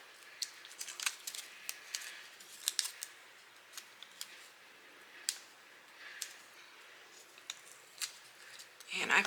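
Scissors snip through ribbon to trim a bow on a handmade fall pumpkin treat box, giving a series of quiet, crisp cuts at an uneven pace, close up and soft, with no talking.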